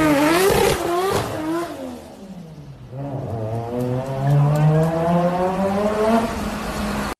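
A car engine revs hard after a slipped clutch, climbing and falling in pitch while the tires squeal. The sound is loud, close and continuous, with a rising whine that holds steady toward the end.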